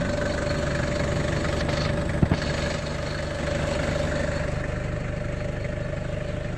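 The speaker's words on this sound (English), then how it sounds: "Let you listen to the engine here." A 1992 Toyota Hiace 4x4 diesel van engine idles steadily nearby, with a constant low clattering hum and a faint tonal whine, broken once by a brief knock.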